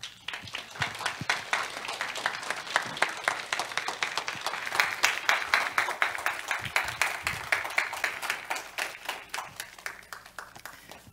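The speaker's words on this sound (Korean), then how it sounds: "목사님 나오실 때 큰 박수로 같이 환영했으면 좋겠습니다." A church congregation at a Sunday worship service claps in welcome for a visiting missionary pastor, a steady, fairly close round of applause that holds for several seconds.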